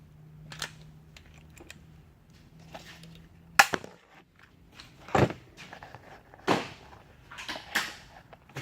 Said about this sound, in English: Take our rivet gun.